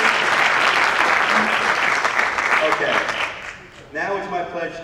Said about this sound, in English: can we get a bigger round of applause for our amazing principal, Dr. Mitchell?